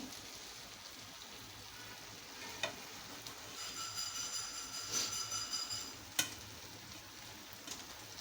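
Okra frying in oil-released roasted masala in a kadhai, with a low steady sizzle and occasional scraping stir clicks, louder bursts of spatula contact midway, no talking.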